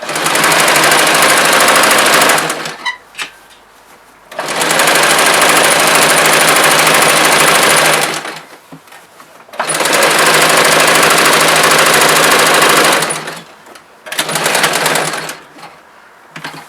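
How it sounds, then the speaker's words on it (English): A sewing machine stitches a pants waistband in three long, loud runs of fast, even mechanical whirring at close range, with short bursts and quiet pauses between them. "do a few stitches, and sew, keeping the fabric taut"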